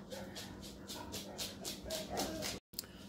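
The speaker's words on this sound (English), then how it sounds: "Excuse me, my dog is excited." An excited dog yips and whimpers in quick, soft bursts at a distance indoors, with a light background hum and a momentary dropout near the end.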